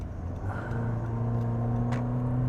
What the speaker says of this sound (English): you can hear the CVT and the engine really working just to pump out those horses